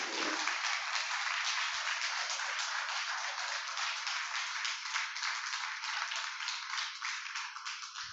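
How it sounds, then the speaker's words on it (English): An audience claps steadily for about eight seconds at the close of a talk on reading Jane Austen, a dense, even patter heard alone without voices. "Let's give her a warm applause."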